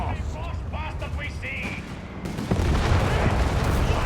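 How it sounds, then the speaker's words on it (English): Battle in Company of Heroes 3 with 6-pounder gun and mortar fire landing: steady rumbling explosions and gunfire under a commentator's voice, with a heavier impact partway through that thickens the din. "6-pounder gun, a mortar fire here landing"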